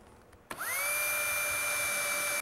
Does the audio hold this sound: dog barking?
no